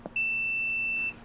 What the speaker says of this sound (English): you would hear a beep